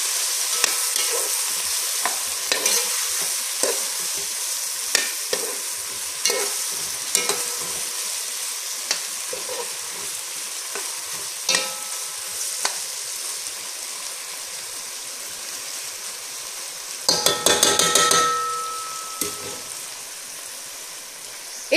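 Pork caramel sizzling in a pan after a small dish of water is added, a continuous crackling fry with sharp spatula taps and a louder burst of hissing near the end.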